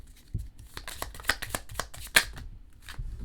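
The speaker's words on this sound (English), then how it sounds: "Oh, and lots of cards just fell out." Tarot cards being shuffled by hand, with a run of quick, crisp riffling flicks and a sharper slap where several cards slip out of the deck, close and fairly quiet with no talk.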